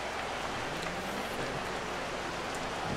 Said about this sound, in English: And we're gonna be playing in the rain now.